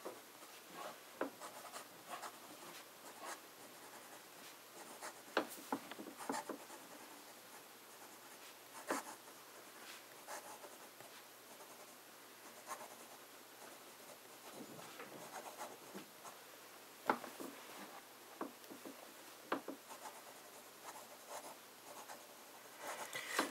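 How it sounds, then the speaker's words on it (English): A fine nib scratches across paper in fine writing with J. Herbin Orange Indien ink, soft close rubbing strokes with small irregular ticks and pauses, continuing quietly for over twenty seconds with no talking. "Start with a bit of fine writing."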